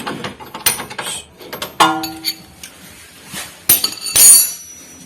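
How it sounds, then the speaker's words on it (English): A wrench breaks loose a bolt on a Honda CR-V front strut. The sound is a series of metallic clanks, clicks and ratcheting knocks, with a sharp ringing strike near the middle and a louder grinding burst toward the end. "And then we break the bolt out of place."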